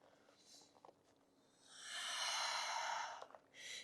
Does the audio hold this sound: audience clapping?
no